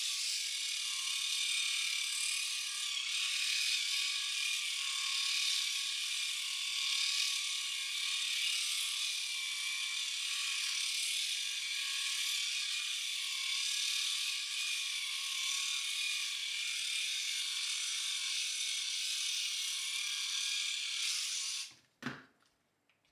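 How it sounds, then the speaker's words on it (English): Panasonic ARC 6 electric shaver running against facial stubble, a steady close high-pitched buzz with faint crackle of hair being cut, continuous for about twenty seconds before cutting off abruptly. "because this Panasonic shaver cuts way closer"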